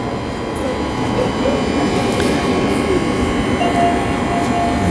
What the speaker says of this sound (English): That is the airport train on platform 4